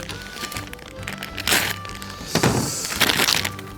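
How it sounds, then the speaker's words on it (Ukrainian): A knife cuts open the tough plastic packaging of an American XMRE military ration outdoors in the cold, making close crackling, crinkling and tearing sounds in uneven bursts. "Ніяких зачіпок тут немає, щоб його спокійно відкрити, тому беремо ніж."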